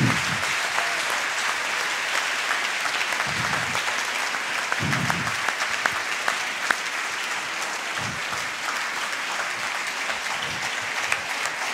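Audience applause at the Italian Fundraising Award 2016 ceremony for the donor-category winners, a steady sustained clapping from a sizable crowd filling the room without pause.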